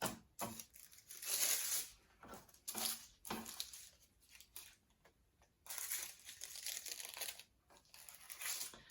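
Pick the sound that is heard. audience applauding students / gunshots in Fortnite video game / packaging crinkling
packaging crinkling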